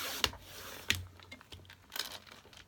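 Paper being cut down into a 1 by 12 inch strip for a DIY purse card holder: a few crisp, papery cuts and rustles, close and fairly quiet, with short gaps between them.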